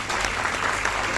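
A hall audience at a business presentation claps in a dense, steady burst of applause lasting over a second.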